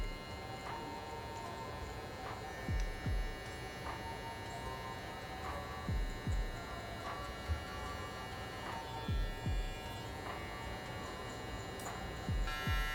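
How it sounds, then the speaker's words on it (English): Hair clipper for a low fade haircut, blade closed all the way, buzzing steadily and close by, with faint periodic ticks and low thumps throughout. "I got this clipper all the way closed."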